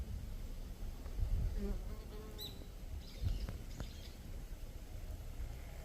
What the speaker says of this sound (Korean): 요놈도 소문 입구에 벌이 있긴 한데 발판에 있죠